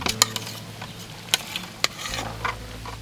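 Intermittent scraping and clinking of a spoon stirring a coarse grain mix with garlic cloves in a bowl, with a few sharp clicks against the sides and a low hum underneath.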